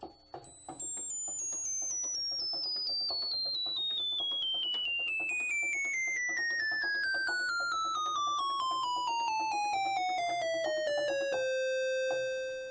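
A very high, piercing tone on the 1-foot register of a Moog Opus 3 synthesizer glides downward over many seconds, then settles on a held note and stops abruptly.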